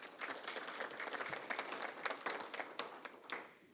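Audience applause for veterans at an affordable housing forum, a fairly quiet crowd clapping with distinct individual claps audible in an uneven patter.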